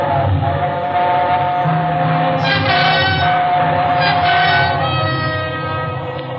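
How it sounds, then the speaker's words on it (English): A train roars through a tunnel in an old-time radio mystery drama, a loud sustained rumble with a whistle-like tone rising midway, holding steady before fading slightly at the end. "It was only the train going through the tunnel"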